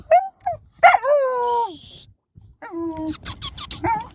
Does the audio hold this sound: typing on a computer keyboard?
no